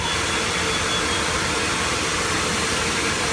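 Steady loud mechanical whirring and rattling from a book folding machine fills the space, a dense continuous machine drone with no breaks and no voices.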